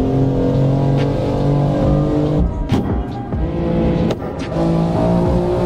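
A BMW M2 engine pulls hard while weaving through traffic, a loud, steady in-cabin drone that briefly dips between gear changes and then climbs again.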